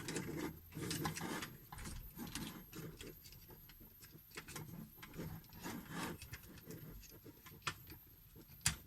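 Plastic Titans Return Optimus Prime toy figure being transformed up close, with a steady run of small clicks, ratcheting joints and rustling plastic parts swiveling and snapping together, fairly loud and dense with a few sharper snaps near the end.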